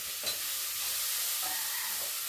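Sprouted-bean sambar ingredients fry in a pan, a constant bright sizzle hissing close by with a few soft stirring scrapes, and no speech.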